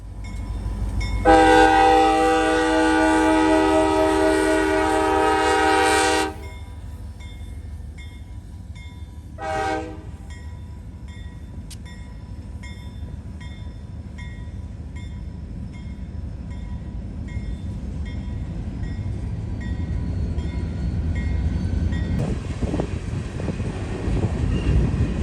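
A northbound CSX local freight led by EMD GP38 number 44 returning to Robb Avenue Yard sounds a long, loud horn blast, then a short toot, with rumbling locomotive and rolling railcars building up underneath.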